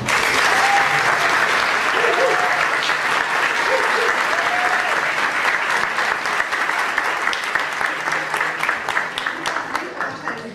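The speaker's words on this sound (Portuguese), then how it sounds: "Eu gostaria também de pedir uma salva de palmas para o professor José Arthur Luz." Applause for professor José Arthur Luz at a seminar on the human aspects of Rio's favelas: dense, sustained clapping from a large audience, loud and even at first, then thinning into scattered claps toward the end, with faint voices underneath.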